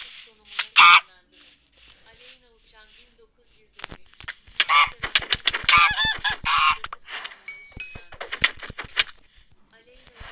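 A goose in a video game manhunt match honks in several loud, nasal bursts, with clicks and scattered game sounds around them and a voice talking at times.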